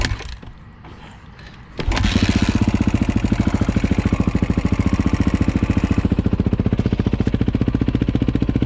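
A KTM motorcycle engine, started on choke, runs rough with a loud, uneven, rapid thumping idle after a brief quieter lead-in, close and steady to the end.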